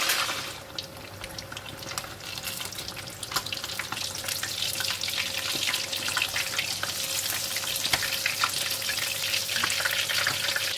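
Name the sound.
tilapia fish deep frying in a pan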